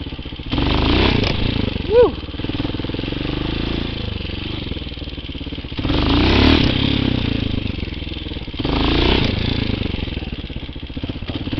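Vehicle engine revving while driving through a field at night, a loud droning motor that surges in three strong bursts with lulls between, a voice briefly exclaiming over it.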